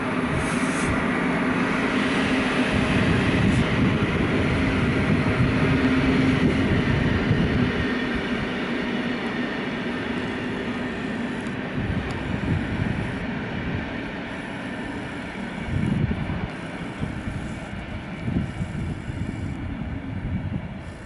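A freight train rolls steadily through Łowicz Główny station, a loud, continuous rumble of wagons with rhythmic wheel clatter and occasional squeals, heard close for the whole stretch without talk.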